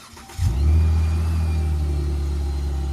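A V6 engine fitted with a new Ripp supercharger exhaust cranks briefly, fires with a loud revving burst, then settles into a steady, deep rumbling idle, close by.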